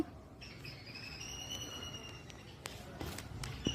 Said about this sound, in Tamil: இந்த பறவைகள் சவுண்டெல்லாம் கேளுங்க, நல்லாயிருக்கும்.